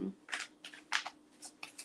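Tarot cards being shuffled, heard as a handful of quick, soft papery riffles in irregular bursts, quiet and close with no talking.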